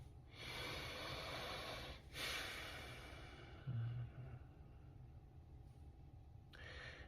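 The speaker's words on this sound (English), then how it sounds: "Let's get a little breath." A single deep breath during guided meditation, a long, soft, close airy inhale and exhale that repeats faintly, with quiet background hiss and no talking.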